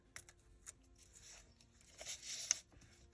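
Paper being cut for a folio journal page, with crisp snipping and tearing bursts that come in an irregular rhythm. The cuts are close, but quiet against a faint background.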